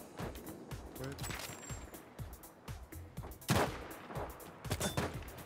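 Rapid gunfire in Battlefield V, a near burst of sharp shots in ragged rhythm with louder cracks toward the middle and end, heard behind a quiet game soundscape with occasional player chatter.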